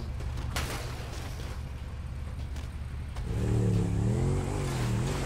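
A motorcycle engine in the video game GTA V hums steadily, then revs up and rises in pitch with a wavering tone, fairly close and with no talking.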